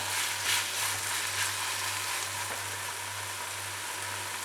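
Tomato masala sizzling steadily in a pan, a dense, even hiss of frying with a low steady hum underneath and no talking.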